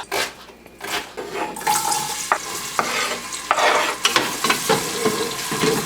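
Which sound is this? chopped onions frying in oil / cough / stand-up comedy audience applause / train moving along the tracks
chopped onions frying in oil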